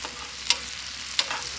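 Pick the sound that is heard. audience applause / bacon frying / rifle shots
bacon frying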